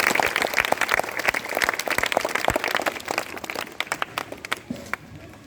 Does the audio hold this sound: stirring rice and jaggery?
no